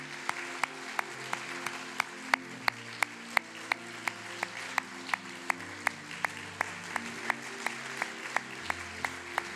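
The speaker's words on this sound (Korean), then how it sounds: "큰 박수로 위로하고 격려하겠습니다" Church congregation at a Sunday service clapping together in a steady, even rhythm, each beat crisp and regular, over sustained keyboard or organ chords that carry on beneath throughout.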